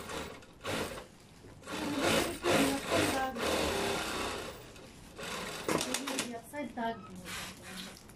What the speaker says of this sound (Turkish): Ben fazla dikiyorum.